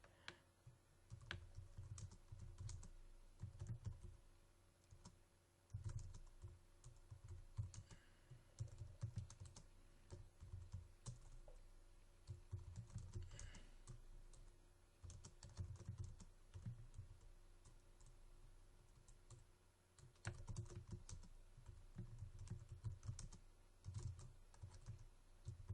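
Quiet computer keyboard typing while a header is entered, with irregular bursts of keystrokes clustered in short runs and brief pauses in between, close and soft with no talking.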